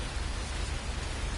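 Steady, loud downpour of rain in Fernbus Simulator, a continuous broadband hiss with no breaks or distinct drops across the short stretch.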